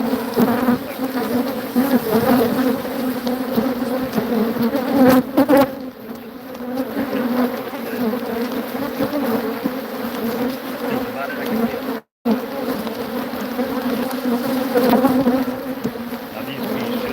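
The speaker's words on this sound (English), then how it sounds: "Now these bees should start flying back in the box here." Honeybees swarm around a hive box outdoors, a steady dense buzzing that carries on for the whole stretch, loud and close, with no talking.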